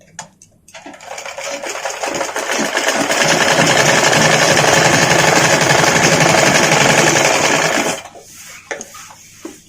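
A sewing machine stitches petticoat fabric in one loud, steady whirring run of about seven seconds, with a few soft taps and handling sounds before and after.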